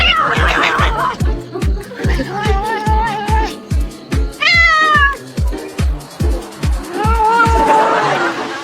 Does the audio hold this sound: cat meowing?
yes